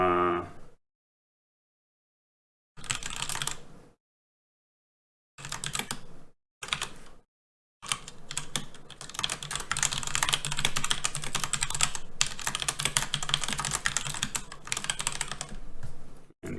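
Typing on a computer keyboard while solving a programming problem: close, rapid key clicks in short bursts separated by silent pauses, building into a long continuous run of fast keystrokes toward the end.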